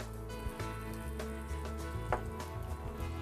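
Curry leaves spit and crackle in hot oil in a preheated pot, a steady close sizzle with a low background hum and scattered sharp pops throughout, no talking.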